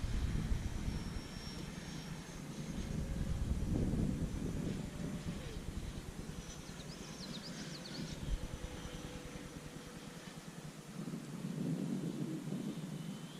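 A Freewing J-10A 90mm EDF RC jet flies past with a rushing, roaring ducted-fan whine that swells and fades as it passes, at moderate distance.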